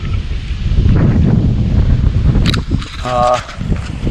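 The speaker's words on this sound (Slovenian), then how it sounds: "sunki vetra" Strong gusts of wind on Uršlja gora mountain buffet the microphone in a loud, rumbling roar, easing briefly before another brief mechanical whine.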